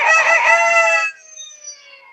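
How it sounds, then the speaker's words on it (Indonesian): A rooster crows once at dawn in the hills of Bukit Menoreh, Kulon Progo, a loud, close, drawn-out call lasting about a second, followed by fainter bird calls in the background. "Disambut suara ayam berkokok."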